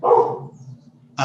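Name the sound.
dog barking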